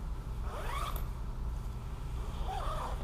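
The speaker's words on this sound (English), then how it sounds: "And then the three zippers, we're going to want to do all three zippers on the back." Zippers on the back of a smart suit are unzipped in two separate pulls, each a short rising rasp, close and fairly quiet over a low steady background hum.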